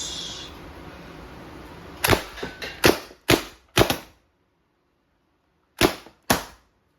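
Several sharp, close pops from an Umarex T4E TR 68 CO2 revolver airgun fire in a quick irregular series, followed by a pause and two more shots.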